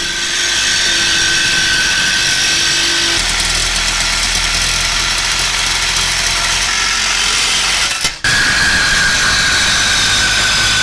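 A power tool cutting the stock bumper bracket off a Jeep Wrangler JL, a loud, close, continuous grinding whine with a steady drone that briefly cuts out near the end and then resumes.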